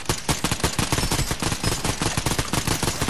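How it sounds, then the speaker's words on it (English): Fortnite gunfire crackles in a dense, continuous stream of rapid shots, loud and close throughout. "Shooting from right here."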